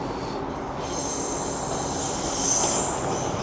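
A train on an Edinburgh Waverley to London King's Cross service passes through Manors station in Newcastle, a loud continuous rumble with a high wheel squeal that swells near the end, heard alone.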